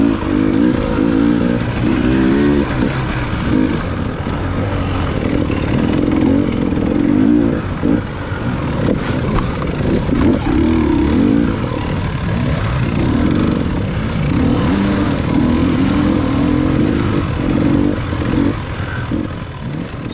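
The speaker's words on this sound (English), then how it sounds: "So there's a couple rev bombs, let me know there's somebody behind me" Dirt bikes revving hard behind a rider during a hare scramble race, a continuous loud engine drone with rising and falling revs and clattering over rough trail, sustained for about twenty seconds without talk.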